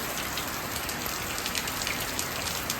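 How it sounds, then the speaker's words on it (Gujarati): Rain falling steadily in a Gujarat village, a dense continuous patter of drops on surfaces, even and moderately loud throughout, with no voices. "વરસાદ તો આ જો બરાબર થાય"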